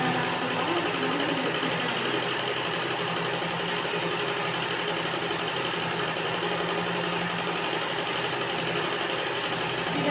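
A sewing machine runs without a break while stitching a seam on ladies' trousers, a continuous close mechanical whir that stays at an even loudness throughout.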